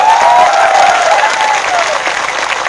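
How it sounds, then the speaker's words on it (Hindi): Loud, sustained applause from a large crowd at a Tipra Motha political rally in Santir Bazar, South Tripura, steady and dense throughout with no speech on top. "ताली मारो, ताली मारो।"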